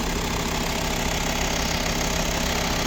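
A 2009 Volkswagen Touareg with an automatic gearbox idles steadily, a constant low engine hum with no revving and no voices.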